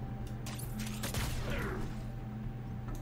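A Deadeye unit in the video game Moonbreaker fires a shot: a sharp burst of gunfire with a whooshing tail, set over a steady low game hum and busy mechanical effects.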